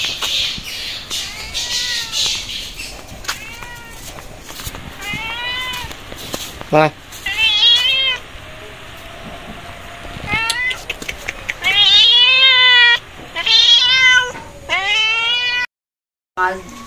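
A cat meowing repeatedly in a home setting, loud, close, drawn-out meows in several bursts, mixed with people talking nearby.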